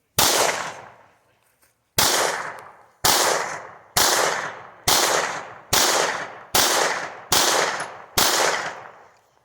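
Nine sharp gunshots ring out at a shooting range, evenly spaced about a second apart, each loud and close with a quick attack and a short decaying echo.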